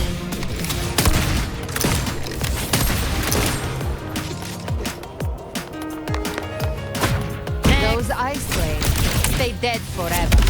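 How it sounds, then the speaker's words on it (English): Rapid gunfire bursts from combat in the video game Wuthering Waves, dense and loud, mixed with game music, impacts and character voice effects throughout. "I'll use the feather blade to weave through them while shooting."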